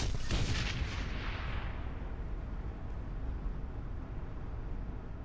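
An aimed gunshot in the Shadowrun: Hong Kong video game cracks loudly once at the start. A long, rumbling booming tail follows and fades slowly while staying dense underneath.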